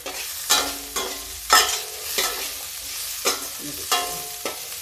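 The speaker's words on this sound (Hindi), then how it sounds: "मूंगफली मेरी थोड़ा फ्राई हो गई" Peanuts fry in oil in a pan, stirred in regular strokes that bring about six distinct, loud bursts of sizzle over a continuous hiss, with no talking.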